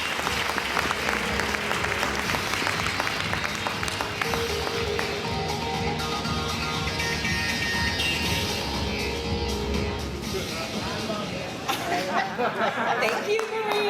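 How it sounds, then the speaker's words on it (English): Sustained applause from a large convention audience at an evening welcoming ceremony, dense and steady for the whole stretch with crowd chatter mixed in and fading near the end. "Round of applause."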